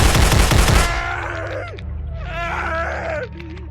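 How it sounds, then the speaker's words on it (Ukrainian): Rapid automatic gunfire rattles loudly in the Sponge Massacre video game, a dense burst of shots lasting under a second, followed by groaning, moaning character voices. "Я взагалі то стріляю по тобі. Стріляю дуже активно."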